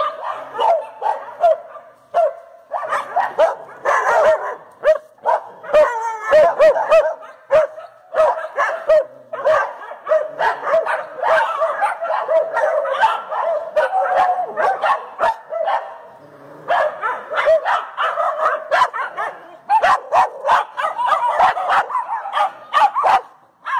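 Many dogs bark over and over in a run-down, neglected municipal kennel in Pádua. The loud, close barks come in bursts, mixed with yips and whimpers.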